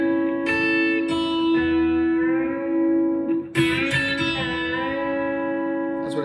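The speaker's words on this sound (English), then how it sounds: "I'm going to pick the top 2 strings together and take the bender up." B-bender electric guitar with the top two strings picked together and the bender pulled up, giving bright ringing double-stops that rise in pitch over a steady sustained low note, clean and close.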